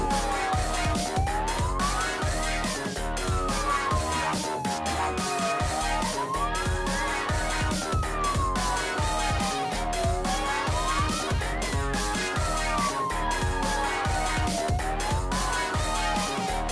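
An ambulance siren wails steadily in rising and falling sweeps while the vehicle pushes through the narrow streets of Ostrów's town centre, loud and continuous over dense background sound throughout.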